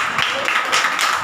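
A church congregation at a Hindi Christian service claps hands together in a steady, rhythmic pattern of loud, close claps, with a faint voice underneath.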